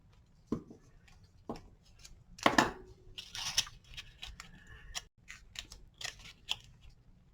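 Scissors snip through a strip of craft tape while assembling a stand-up Christmas card scene, a few sharp separate cuts with small rustles and paper handling between them, close and fairly quiet, no talking.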